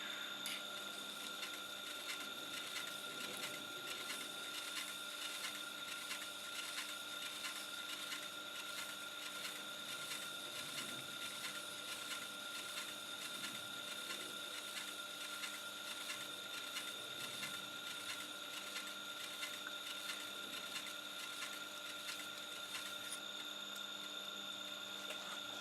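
A chisel is sharpened with a quick, regular rhythm of faint, close strokes that repeat evenly throughout, with no talking.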